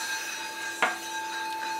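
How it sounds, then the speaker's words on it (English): A white suede stick rubbed around the rim of a crystal singing bowl: a steady, bright ringing tone with thin scratchy friction noise on top and a brief rougher scrape partway through, close and quiet with no talking. "You can already hear a lot of a scratchy sound."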